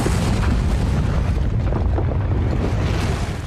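Volcanic eruption explosion in a Spanish documentary about Earth's interior, a loud continuous roaring rumble with deep booming low end and no talking.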